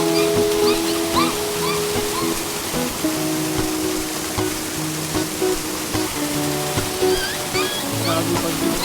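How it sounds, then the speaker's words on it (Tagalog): A strong waterfall pours in a steady, dense roar, with rushing water filling the whole clip and people talking over it. "At ito naman ang pinakadulo ay ang pinakamagandang falls."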